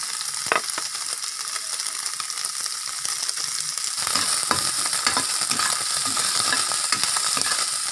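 Cooking oil heating in a pan sizzles steadily and close, with a hiss that grows denser halfway through and scattered pops and crackles, no voices.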